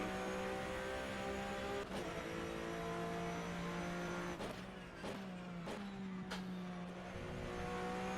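A Porsche Cup race car with a flat-six engine, driven in the rFactor 2 racing game at Circuit TT Assen, roars loudly and continuously, its pitch climbing through the gears with several abrupt shift breaks.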